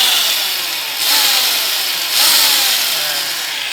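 A Yojimbo mini jack hammer runs steadily in rotary drill mode with no hammering, giving a loud, close, continuous high whine that swells slightly twice.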